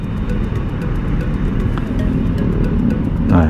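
Steady road and engine rumble in traffic on a Manila street as a jeepney drives nearby, a constant low drone.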